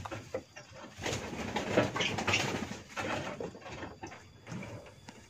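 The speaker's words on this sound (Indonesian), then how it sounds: "Dan seperti inilah ketika burung jalak kebo sedang membuat sarang." Javan pied mynas building a nest make rustling, scraping and shuffling noises with soft bird calls mixed in, all close and moderately loud in irregular bursts.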